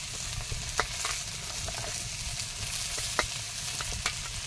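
Thin-sliced potatoes and green chilies sizzle steadily in a hot pan, with a few sharp spatula clicks and scrapes as they are stirred, close by and with no voices.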